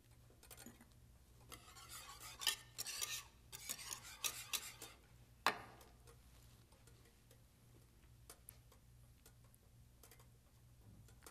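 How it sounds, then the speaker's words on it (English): Butter and vanilla being stirred into a hot pot, a spoon rasping and scraping in quick bursts, busier early on and then sparse clicks and taps, close and moderately quiet over a low steady hum. "And you just stir that in."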